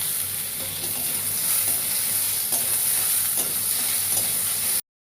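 Chopped onions with ginger garlic paste being stirred in a pan, with a continuous close sizzle and frying hiss, light scraping strokes throughout, no voices, ending abruptly.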